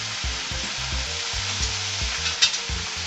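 Fish head and Malabar spinach stirred in a frying pan, a steady close sizzle under repeated scraping strokes of the spoon against the pan, with no talking.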